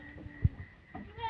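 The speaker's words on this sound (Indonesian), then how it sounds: "Ini kambingnya cukup banyak, ada sekitar 100 lebih populasi kambing yang ada di kandang ini" Goats in a pen holding more than a hundred animals give a few short bleats over quiet barn background noise.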